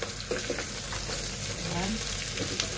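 Chicken feet adobo stirred in a hot pan with black pepper and chili: a steady, loud sizzle with scraping stirs throughout, and faint talk underneath.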